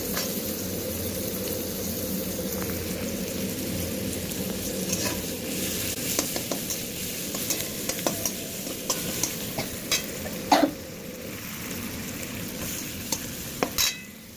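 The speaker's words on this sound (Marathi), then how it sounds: "टमाटर टाकायचे तेही मिक्स करून घ्यायचे व्यवस्थित" Tomatoes are stirred into a spiced mixture in a pan over low heat, giving a continuous near sizzle. Scattered spoon clicks and scrapes grow more frequent toward the end, and there is no talking.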